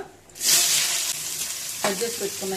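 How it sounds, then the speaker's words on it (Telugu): Cumin and mustard seeds drop into hot oil in a pan and burst into a loud, close sizzle, settling into a steady crackling fry with a few clinks of utensils. "ఇప్పుడు దాంట్లో కొంచెం మసాలావి జీలకర్ర, ఆవాలు అన్నీ వేసుకుంటున్నాము."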